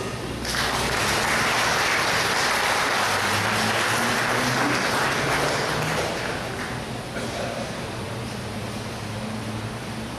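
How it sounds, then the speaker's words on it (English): An audience at a memorial lecture's question session applauds for a bishop, loud dense clapping that fills the hall then gradually thins and softens toward the end. "So we invite the bishop to make a remark or ask a question. A round of applause."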